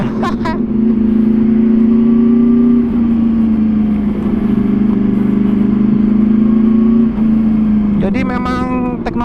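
A 2014 Yamaha R1 facelift blue and white GP edition motorcycle on a test ride holds a loud, steady inline engine drone that dips briefly, with a rider talking over it near the end.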